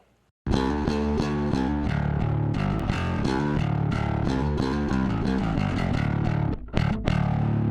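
Distorted bass guitar through an Electro-Harmonix Battalion bass DI preamp playing a driving riff, loud and gritty with sustained notes, briefly dropping out near the end before resuming.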